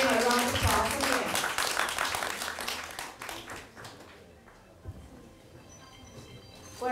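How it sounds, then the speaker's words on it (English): Audience applause at the premiere of an immersive exhibition on the West Yunnan campaign, loud clapping at first that fades out over a few seconds, leaving a quiet room. "Give them a round of applause again."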